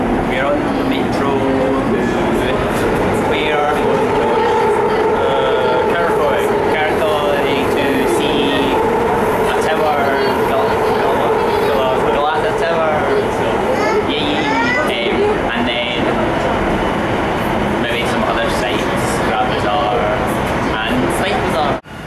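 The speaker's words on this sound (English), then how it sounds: "We're on the metro." Inside a busy metro train in motion, a steady rumble and rolling hum carry through the full ride, with people chatting throughout.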